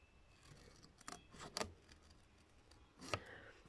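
Scissors snip paper while a school-bag-style album is being made, a few quiet close crisp cuts in short bursts against a hushed room.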